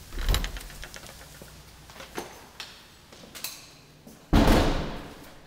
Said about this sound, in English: We're gonna head in the front door.